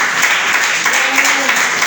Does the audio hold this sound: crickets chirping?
no